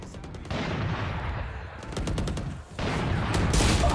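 Rapid bursts of automatic gunfire from a mobile shooter video game crackle loudly and continuously, with a brief pause before the firing resumes.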